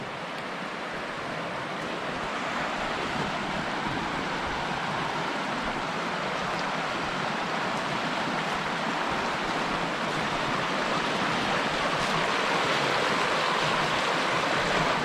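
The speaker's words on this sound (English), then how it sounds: "Check this out, we're right here on the river." A river flows steadily past a campsite in South Mountains State Park, North Carolina, making a continuous broadband rush of moving water that stays close and even throughout, with no voices.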